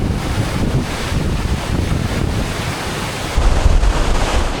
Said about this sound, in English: What you're looking at is one of the most terrifying forces of nature, storm surge.